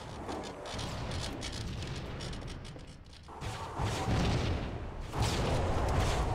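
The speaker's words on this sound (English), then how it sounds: "Both of our rockets collided." Two rockets colliding and exploding in Halo 2 multiplayer, giving a dense, sustained roar of blasts and rumble with fresh loud surges partway through, busy and chaotic with no clear voices.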